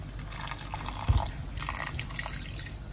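Water poured in small amounts into a pot of meat simmering in sauce, with soft drips and a light liquid trickle over low kitchen background noise.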